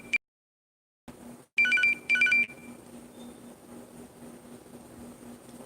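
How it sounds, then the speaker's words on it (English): A mobile phone ringtone plays in short bursts of bright electronic tones, with a brief isolated beep at the start, then fades into a low steady background hum; no one speaks. "my phone is ringing."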